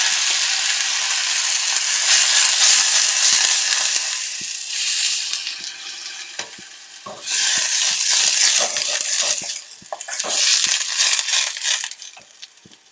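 Ground onion paste dropped into hot ghee sizzles loudly and steadily, a bright crackling hiss that swells and dips in bursts, close by with no talking.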